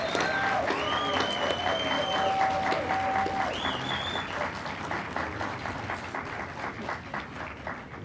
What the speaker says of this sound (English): Can we give all of our students a rousing round of applause?